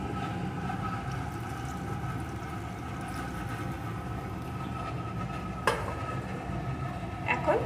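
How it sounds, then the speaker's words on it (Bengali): Hot water poured into a pan of chicken that has been cooking down, giving a steady close hiss and sizzle with a few sharper splashy bursts toward the end. "আমি কিন্তু এখানে গরম জল দিয়ে দিচ্ছি।"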